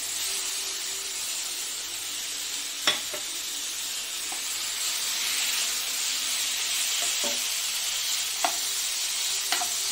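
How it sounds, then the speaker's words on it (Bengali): Chicken pieces with ginger-garlic paste sizzle and fry in a pan, a steady hiss broken by a few sharp spatula scrapes and stirs, close and fairly quiet, with no talking. "এই যে দিয়ে দেবো চিকেন, এই যে আদা রসুনের পেস্ট, এটাও দিয়ে দিলাম।"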